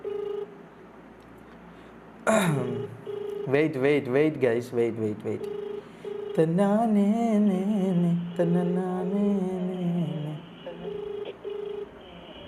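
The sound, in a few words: phone call ringing, unanswered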